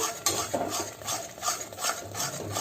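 Gram flour (besan) being stirred and roasted in a pan over a low flame, a close rhythmic scraping of a spoon in slow repeated strokes with a faint background sizzle.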